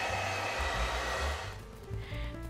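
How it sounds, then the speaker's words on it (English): A handheld dryer blows on freshly painted craft stickers, giving a loud, close, steady whirring roar that shifts pitch and eases slightly partway through, then swells again. "I use my hand dryer to help the stickers dry a little faster"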